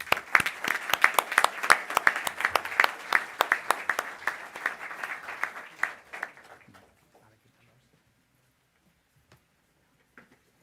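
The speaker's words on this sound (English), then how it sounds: "So with an applause from the audience." Audience applause greets speakers at a conference conversation on the Spanish economy, a dense burst of many hands clapping that tapers and stops after about seven seconds, leaving near silence.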